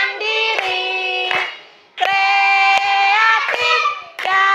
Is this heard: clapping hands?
yes